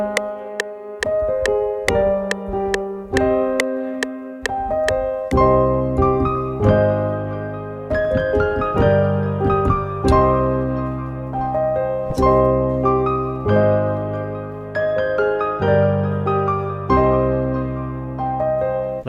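A quick synth melody plays over a natural minor chord progression moving 1-6-5-1, opening with sparse bright plucked notes before fuller sustained chords come in beneath a steady, rhythmic lead line.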